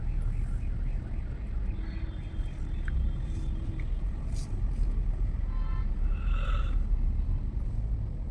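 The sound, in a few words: trucks rumbling in road traffic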